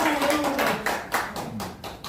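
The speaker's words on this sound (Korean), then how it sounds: "큰 박수 한번 부탁합니다" An indoor crowd claps at a political party campaign office opening in Korea, brief irregular hand claps close by, fairly distinct.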